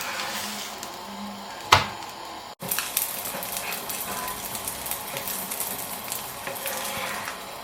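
Uthappam batter frying and crisping on a hot pan, a continuous close sizzle with crackling texture, broken by a sharp clatter and a brief cutout before the steady frying resumes.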